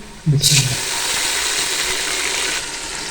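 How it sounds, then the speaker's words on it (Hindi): Water added to garlic browning in a hot pan while cooking chicken with potatoes and peas, a loud hiss that bursts out at once and then settles into a steady close sizzle for a few seconds, with no talking. "लहसुन हमारा ब्राउन हो रहा है, इसमें थोड़ा सा पानी शामिल कर देंगे।"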